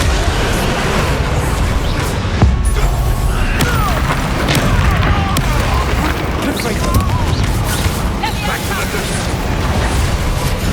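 Incendio fire spell casting in Hogwarts Legacy, a series of dense, rumbling bursts and crackling blasts spread across a fight, with steady low booms underneath and the odd sharp crack.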